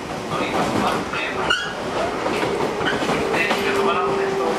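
JR Central 211 series commuter train, motor car MoHa 210-5017 with an abnormal-noise internal fan, running from Fukuroi to Kakegawa: a steady, loud interior rumble and rail clatter throughout, with a thin whining tone rising later.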